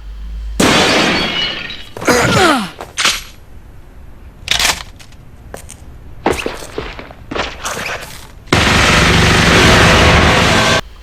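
Submachine pistol firing high-velocity rounds in a 1995 Ghost in the Shell anime chase scene, heard as sharp bursts with shattering glass and impacts, then a long sustained roar of fire near the end.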